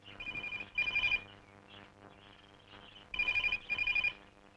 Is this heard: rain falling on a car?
no